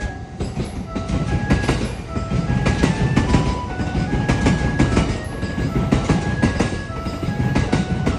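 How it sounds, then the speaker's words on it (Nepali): A train in Japan rolls past close by, a loud, continuous rumble with rhythmic clickety-clack of wheels over rail joints and faint tonal whines. "यताउता त 10 मिनटको ग्यापमा एउटा ट्रेन गयो, फेरि अर्को आयो।"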